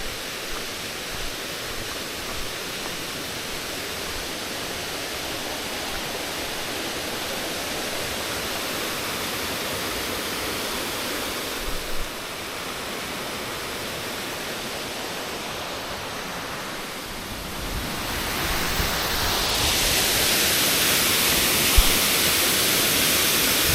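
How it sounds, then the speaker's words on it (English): Otaki Mitaki Waterfalls beside the Nakasendo Trail in Japan send out a steady, broadband rush of falling water. It holds unbroken for the whole stretch and swells noticeably louder and brighter toward the end, with no voices. "This is Otaki Mitaki Waterfalls."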